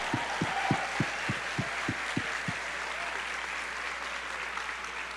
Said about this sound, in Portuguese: Se você está do lado de uma mulher, dê uma salva de palmas para ela.